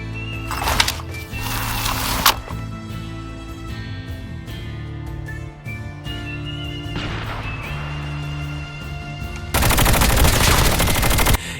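Bursts of SMG fire in a Call of Duty Mobile battle royale match, with rapid crackling volleys at the start, middle and end, loud and close over game ambience.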